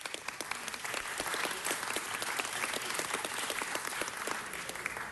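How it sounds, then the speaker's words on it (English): A council meeting audience applauds firefighters with steady, dense clapping throughout, close and sustained without a break. "give firefighters a round of applause"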